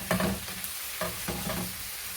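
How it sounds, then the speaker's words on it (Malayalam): Chopped tomatoes fry in a pan for a boneless chicken curry, a close, crackling sizzle with several stirring scrapes at uneven intervals. "ഈ അല്പം കൂട്ടി വെച്ച് തന്നെ നമുക്ക് ടൊമാറ്റോ നന്നായിട്ടൊന്ന് വഴറ്റിയെടുക്കാം"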